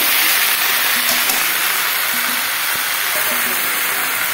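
Pui (Malabar spinach) leaves and boiled vegetables sautéing in a pan, a steady broadband sizzle and hiss running throughout at close range, with faint clinks from stirring.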